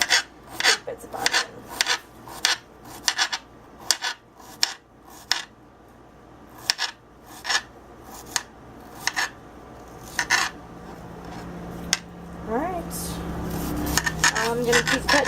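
Onion being cut on a cutting board for pork enchiladas, sharp knife strikes tapping in an irregular rhythm close by, with a voice talking faintly near the end.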